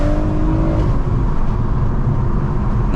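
A tuned BMW M140i with a stage 1 remap accelerating hard, a loud, steady engine roar and whir from inside the car that holds without a break throughout.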